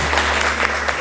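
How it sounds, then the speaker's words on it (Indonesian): Short burst of classroom applause for a student group during a pharmacy-service teaching session, a steady patter of clapping for about a second over a low hum. "Kita kasih tepuk tangannya."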